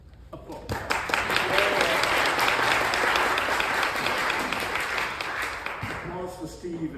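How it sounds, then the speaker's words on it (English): Audience applause at an evening program after a contributor's remarks, clapping swelling in quickly and holding as a dense wash before tapering off, with a voice beginning to speak near the end. "Applause."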